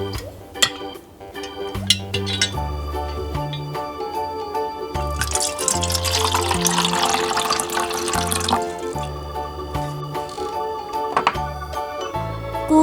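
Water pours into a container for mixing slime activator, a steady splashing stream lasting a few seconds in the middle, set against an ongoing musical backing.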